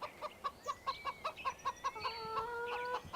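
Chickens inside a coop in the video game Farming Simulator 15, a steady run of rhythmic, evenly spaced clucks with a sustained crowing-like tone layered in partway through, moderately quiet.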